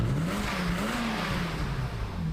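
A BMW E30 engine revs through a new exhaust with a deep, refined tone, rising and falling in pitch over a steady loud drone, close by with no talk.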